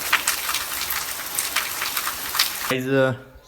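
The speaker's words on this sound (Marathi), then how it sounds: "कसा आहे पाऊस जोरदार आहे की नाही सकाळ सकाळ सुरू झालाय" Heavy rain pours down in a steady, dense hiss at close range, then a voice briefly cuts in over the downpour near the end.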